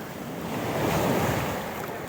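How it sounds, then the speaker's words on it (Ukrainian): Large sea waves roll and break continuously on a crowded Odesa beach, a broad, steady wash of surf with wind buffeting the microphone and no voices. "У сьогодні дуже велика хвиля."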